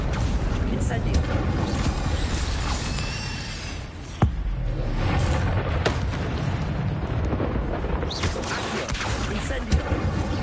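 Incendio fire spell blasts in Hogwarts Legacy, loud booming bursts and roaring flame noise amid dense game combat sounds, with spoken voices over the action.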